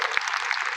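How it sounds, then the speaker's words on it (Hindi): A crowd breaks into dense, steady clapping at a village gathering in Nandgarh, with the applause loud and continuous throughout the brief moment. "जोरदार ताली बजाओ भाई।"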